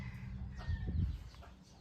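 A Burmese Ngon fighting rooster, seven months old and about 2.5 kg, gives a few short, soft clucks and throaty calls close by, faint against a quiet farm background with no talk.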